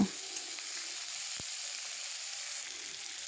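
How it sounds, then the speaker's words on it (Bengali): Chopped potatoes fry in oil with tomato, onion and green chili, giving a steady, even sizzle and hiss close by with one small knock near the start and no talking. "এবার আমি ওর মধ্যে দিয়ে দিলাম সেই কুচানো আলু আলুটা একটু ভালো করে নেড়ে চেড়ে ভেজে নেব"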